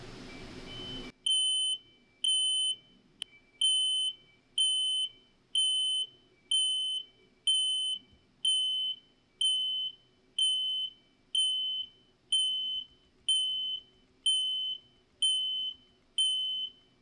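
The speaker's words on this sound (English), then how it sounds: "This system has an over temperature high temp alarm. This can be used to activate an alarm to signal if the temperature has exceeded the set point" High-temperature alarm of a Firevault temperature control system sounding a shrill electronic buzzer in regular pulsing bursts, about one per second, repeated steadily for over fifteen seconds in an otherwise quiet room.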